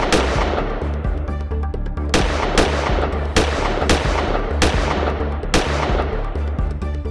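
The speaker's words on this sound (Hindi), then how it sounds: "बदमाशों ने इतनी गोलियां बरसा दी" Rapid bursts of pistol gunfire at a showroom, loud sharp cracks repeating in an irregular rhythm over a dense, echoing background roar.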